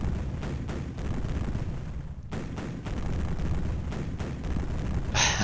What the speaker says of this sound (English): Such an intense cannon barrage.